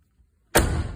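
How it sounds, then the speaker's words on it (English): A car door on a 1978-1988 G-Body with a T-top slams shut once, a sudden heavy thud after a quiet pause, followed by a short fading rattle. "Sounds like you're shutting a vault door."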